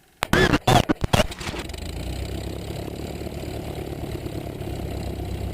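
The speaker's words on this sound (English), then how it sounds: "And we'll start the engine." A small airplane's piston engine cranks with a few sputtering, uneven coughs, catches, then settles into a steady, moderately loud idle that runs on alone.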